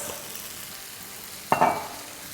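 Chicken chili stirred in a pan with soy sauce, chili sauce and chicken powder, giving a soft steady sizzle and one brief scraping swish of the spoon midway, quiet and without talk.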